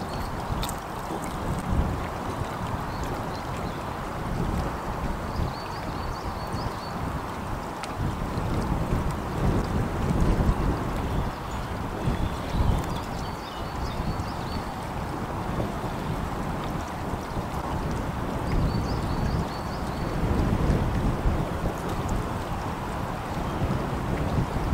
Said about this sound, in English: It's quite windy today.